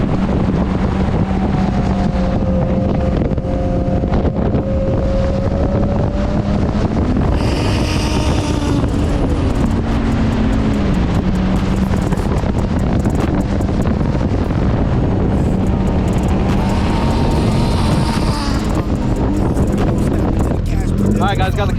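A turbocharged Sea-Doo or Yamaha jet ski runs at speed on open water, a loud steady engine drone with rising and falling pitch under heavy wind buffeting and spray, with a voice intermittently audible.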